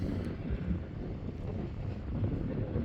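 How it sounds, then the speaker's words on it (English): Steady wind buffeting the microphone on top of the Oroville Dam, a constant low rumble and rush with no talking. "A little windy up here."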